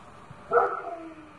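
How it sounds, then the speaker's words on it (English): A single short dog bark rings out at a middle distance over steady outdoor background noise, followed by a faint trailing yelp. "Certainly picked up the dogs barking as well."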